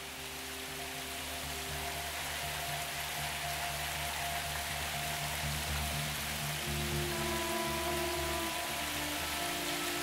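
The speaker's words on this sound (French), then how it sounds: "C'est juste une petite ondée" Steady light rain pattering on a surface, an even wash of soft noise with faint low hums underneath, no voices.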